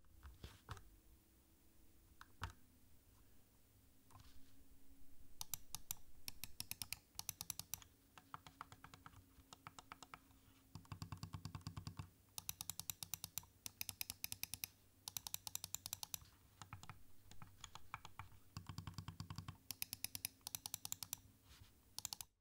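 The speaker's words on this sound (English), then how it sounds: "here is how the switches sound." The switches of a Logitech MX Anywhere 3 mouse click in quick, crisp clusters and single presses, close but quiet, with short gaps between the flurries of clicks.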